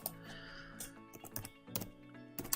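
Typing on a computer keyboard while entering a first name into a client search field in financial advice software, with soft irregular clicks in short bursts separated by pauses, close to the microphone.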